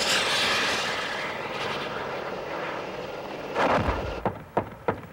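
An attack helicopter passing overhead, a broad roaring rush that fades gradually, followed by a few sharp impacts near the end, all loud and without voices.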